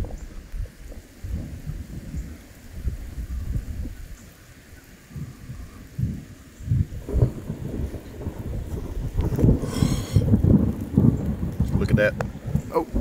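A thunderstorm with rain in College Station, Texas: steady rain and low rolling thunder build to a louder rumble near the end, with a person talking intermittently over the storm.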